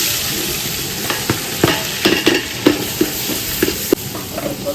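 Onion fries in a hot tempering of mustard seeds, cumin, curry leaves and dried red chillies, giving a steady sizzle. Sharp spatula scrapes and taps from stirring are scattered through it.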